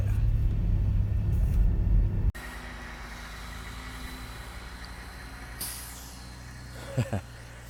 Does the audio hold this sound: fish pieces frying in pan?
no